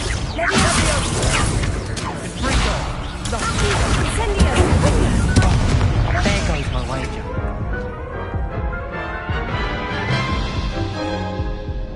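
Spell blasts of Confringo and Incendio in Hogwarts Legacy on PS5, dense crashing, whooshing bursts in quick succession over a busy game soundscape, with a voice speaking over them.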